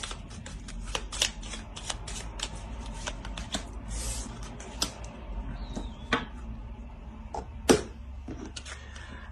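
Tarot cards being shuffled and drawn: continuous soft riffling and flicking of card stock close by, with crisp snaps and taps as cards are laid down, and no talking.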